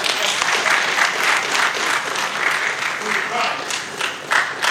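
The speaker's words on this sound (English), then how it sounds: "I think our chairman deserves another round of applause." An audience applauds a chairman's speech at a Hajj event, steady dense clapping from a crowd heard fairly close, continuing evenly throughout with slight swells.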